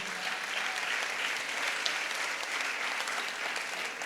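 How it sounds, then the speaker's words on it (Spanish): Steady, dense applause from a church congress audience fills the room, loud and continuous throughout with no break. "Dele otro aplauso, Señor, grande."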